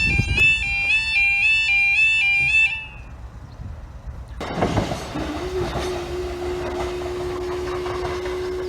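At New Hartley level crossing in Northumberland, an electronic warning alarm warbles in a repeating pattern, then a train rumbles past with rolling wheel noise and a sustained tonal whine, loud and close.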